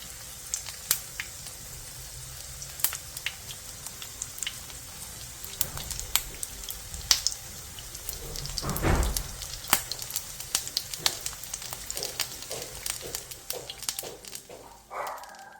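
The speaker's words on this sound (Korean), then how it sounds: "중약불에서 예열한 뒤 계란물을 묻힌 깻잎을 올려주세요." Egg-dipped perilla leaves with king oyster mushroom fry in a pan over medium-low heat, giving a soft, steady sizzle with scattered crackles and pops.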